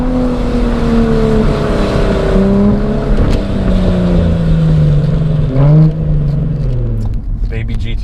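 A Hennessey-modified 550 HP Cadillac ATS-V accelerates hard, its engine note climbing steadily through the gears with a brief shift dip, loud and close from inside the car.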